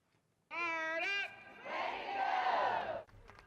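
A rally crowd at the South Carolina State House roars and shouts together after a short, tonal cry, the cheering swelling loud for over a second before cutting off.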